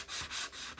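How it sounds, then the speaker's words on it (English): A small sanding block rubs along the edges of a chalk-art craft piece in quick, close, rhythmic strokes, about four soft rasping passes in under a second. "we're going to get a little sanding block and we're gonna sand the edges"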